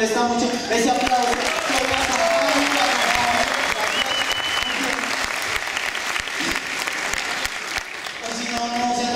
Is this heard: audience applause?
yes